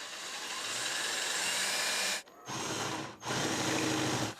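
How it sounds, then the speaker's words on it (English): A Forstner bit bores into wood for a guitar body, a steady loud whirring grind running in three bursts with two brief pauses between them, close by and with no talking. "I'm going to go in with a Forstner bit"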